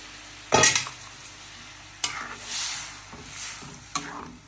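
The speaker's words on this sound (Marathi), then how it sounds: "आता हे आवरेकाई शिजलेले ह्याच्यात घालायचं." Cooked avarekai beans are tipped into a masala in a cooking pot and stirred, giving a few sharp scraping clatters and soft sizzling swishes, close and fairly quiet.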